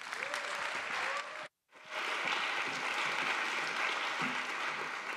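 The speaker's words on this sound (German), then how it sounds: "Einen herzlichen Applaus." Audience clapping at a digital civil society gala, a warm sustained round of applause broken by a brief dropout, continuing evenly afterward with faint tones underneath.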